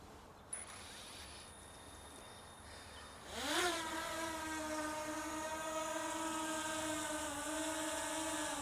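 A Fimi Mini 3 drone spins up outdoors in the wind and lifts off, its high whining rotor buzz rising sharply in pitch, then holding a steady, close, continuous drone while hovering.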